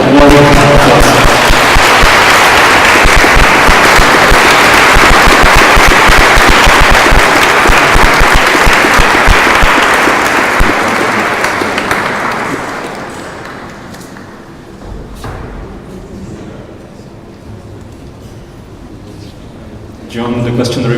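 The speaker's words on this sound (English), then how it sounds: "So please, warm applause." Warm audience applause at an architecture conference panel discussion, a dense sustained clapping for about twelve seconds that then thins out and fades, with a few scattered claps at the end.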